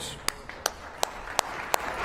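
Sparse, faint clapping at an awards ceremony, roughly six distinct claps at a steady, slow rhythm, heard from a distance in a quiet hall.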